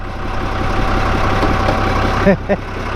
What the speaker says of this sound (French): Mon pauvre vieux tracteur.